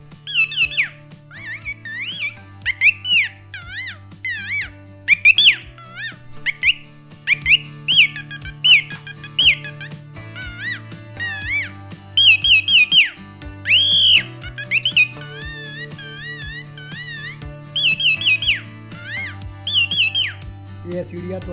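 A man plays a hand-held instrument to imitate sparrow and parrot calls, making bright, warbling squeaks and whistles in quick phrases. A steady, droning melody runs underneath.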